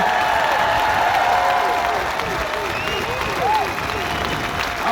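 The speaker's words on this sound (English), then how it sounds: "can we please have a round of applause for all the speakers and our excellent compare, Lee Hunter." A crowd at an outdoor protest rally in Liverpool applauds the speakers and the compère, a steady wash of clapping with some cheering around a speaker standing on a fire engine.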